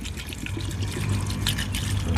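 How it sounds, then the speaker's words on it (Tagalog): Water is poured into a cooking pot of tinola soup made with wild boar, papaya and chili over an outdoor fire. It makes a steady close trickle and splash that runs the whole time, with no talk. "Saka dagdagan ko lang ng tubig para magkaroon pa ng kaunting sabaw."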